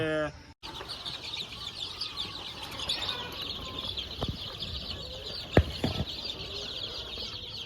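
Country chickens cluck and chatter steadily at a poultry farm near Jalakandapuram, Salem, with wings flapping now and then and a voice faintly in the background.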